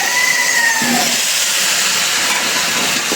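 Potatoes dropped into a hot pan sizzle with a loud, steady hiss and crackle, close up, continuing evenly throughout the short stretch.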